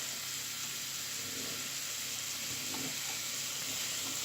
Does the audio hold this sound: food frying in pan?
yes